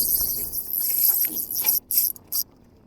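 A quick, fine ratcheting click from a Daido Arthemis Power fishing reel's drag being loosened buzzes for a couple of seconds, then breaks into short bursts before stopping.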